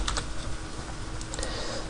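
Quick, close keystrokes on a computer keyboard as a ping command is typed, with a short burst at the start and another near the end.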